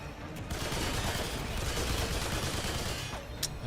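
Dense, continuous gunfire from the video game Remnant II rattles in rapid bursts for several seconds at a steady moderate level, with a couple of sharper reports near the end.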